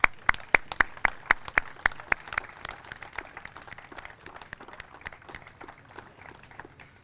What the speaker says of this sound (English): Next round of applause.